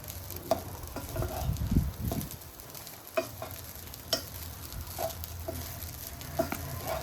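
Egg fried rice being stir-fried with pepper powder in a pan, giving soft sizzling under irregular scraping and tossing strokes, with a heavier rumble early on and scattered spoon clicks, and no voices.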